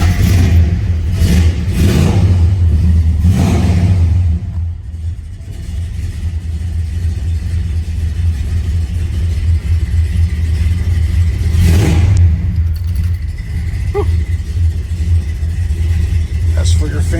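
A 1970 Dodge Super Bee's engine cranks, catches and revs up in several rising surges, then settles into a loud, deep, steady rumbling idle with another brief rev near the end.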